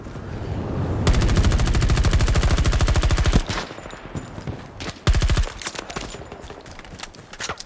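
Rapid automatic gunfire in Battlefield 2042, a long loud sustained burst followed by shorter scattered volleys and a second brief burst, close and harsh with no talking over it.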